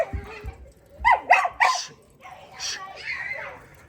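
Dogs bark and yip in a backyard during a family grill night with a Weber kettle, a few short barks near the start then whiny yelps, with people talking and kids playing around them.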